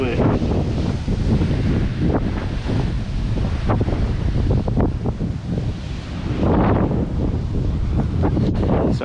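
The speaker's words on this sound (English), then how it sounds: "It's windy as buggery out here." Strong coastal wind buffets the microphone near the shore on a fishing trip, a loud continuous low rumble with gusty surges and waves underneath, no voices heard.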